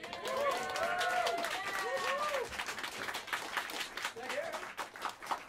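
Audience applause at Smalls Jazz Club in New York City after a jazz quartet set, clapping and a few cheers, with a voice talking over it at first before the clapping carries on more raggedly.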